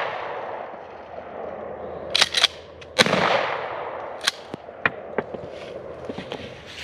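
Sharp, separate reports from .410 and 20-gauge shotguns crack out outdoors, a quick double shot followed by several single blasts spaced irregularly, each fading fast over a quiet rustling background.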